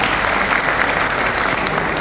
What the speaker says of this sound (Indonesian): Tepuk tangan untuk Jombang